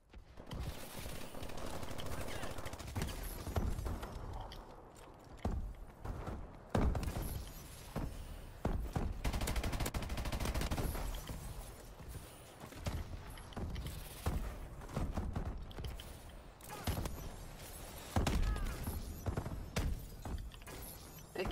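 Repeated bursts of heavy automatic gunfire from a walker tank in the video game Call of Duty Advanced Warfare, rattling and cracking in irregular volleys over about twenty seconds, fairly quiet and mixed with other battlefield impacts.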